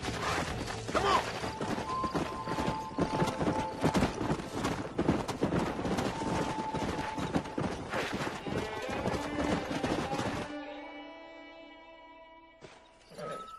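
Horse hooves clip-clop in steady rhythm within the Red Dead Redemption 2 video game, ringing out loud and busy with overlapping game sounds before thinning into quieter tones near the end.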